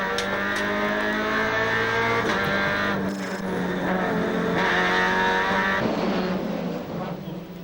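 Onboard a Peugeot 206 race car at the start in Pau, its engine droning loud and steady with rising revs and gear changes, other cars roaring close around it throughout.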